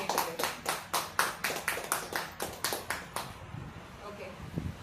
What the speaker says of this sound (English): Let's give a big round of applause for our SAA today.